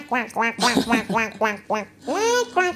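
Squeaky toy-duck quacks in quick bursts, several in a row with brief gaps, then a longer drawn-out squawk, loud and close.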